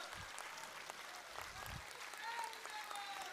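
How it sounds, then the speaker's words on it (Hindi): Scattered clapping from a crowd at a rally, fairly faint and thin, with a few distinct claps and a little background murmur. "तालियां बजती रहनी चाहिए।"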